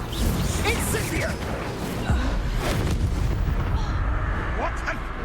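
An Incendio fire spell cast in the Hogwarts Legacy video game, a dense roaring burst with heavy booming impacts amid loud combat noise, filling the whole stretch.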